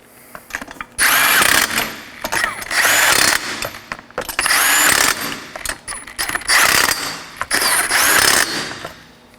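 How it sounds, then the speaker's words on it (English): On a 2013-2019 Nissan Sentra, a ratchet tightens fender liner fasteners in a crisscross pattern: several loud, rapid clicking bursts about a second long, separated by brief pauses and quieter handling noises. "We're going to tighten these up in a crisscross pattern."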